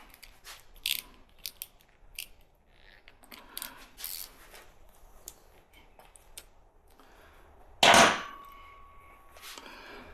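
A socket wrench ratchets on the 2.5L engine of a 1993 Jeep Wrangler YJ, with scattered close clicks and metallic rattles, then a louder clank with a ringing metal tone near the end. No one speaks.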